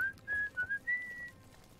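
A single character named Fergus whistles a short, wavering tune in the game Oblivion, a few clear rising notes close and alone over a faint background.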